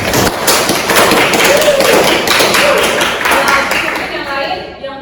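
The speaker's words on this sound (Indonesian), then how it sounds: "Silakan kita berikan aplaus" Classmates clap together in a classroom, a dense burst of loud applause lasting several seconds, with a few voices underneath, before it tapers off.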